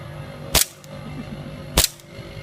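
Two sharp gunshots at target shooting, about a second apart, loud and close, with a low background hum between them.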